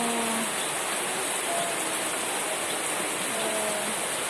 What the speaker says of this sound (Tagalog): Lakas ng ulan dito, oh.